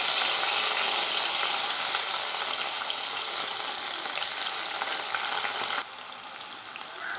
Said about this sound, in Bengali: এখন এগুলোকে আমি একটু ভালো করে ভেজে নিব।